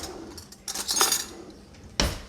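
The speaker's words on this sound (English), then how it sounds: "We give this a little stir up." A metal utensil scraping and clinking inside a pot of potatoes with sugar and rosemary, a few close clatters of stirring with one sharp knock near the end.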